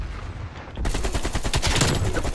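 AK-47 assault rifle fire in the game Black Ops Cold War, sustained rapid automatic bursts, loud and close, the fire intensifying after a short lead-in with no voices.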